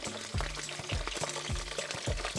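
Already-cooked beef tripe browning in hot lard in a pan for tacos de tripas, a soft steady sizzle with rhythmic clacking pulses as the pieces are stirred or moved, close and moderately quiet.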